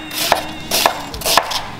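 A knife chops vegetables for Vietnamese-style sour soup on a board, about four crisp, evenly spaced strokes close by, with no talking.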